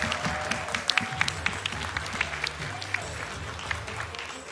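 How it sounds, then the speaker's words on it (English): Applause from a group, a dense patter of hands clapping with a few louder, closer claps standing out over a murmur of voices. "my clap is kind of loud, so it's getting picked up by the mic"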